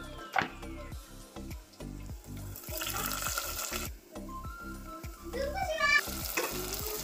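Thinly sliced onions, green chillies and tomatoes frying in a pan, a soft steady sizzle with rhythmic stirring strokes and scraping, close but fairly quiet, with no talking.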